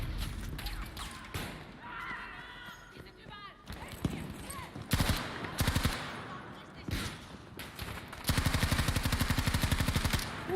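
Gunfire from a heavy-recoil weapon in the Battlefield 2042 video game, heard as bursts of shots with a long rapid automatic volley near the end, loud and close, with game effects between the bursts.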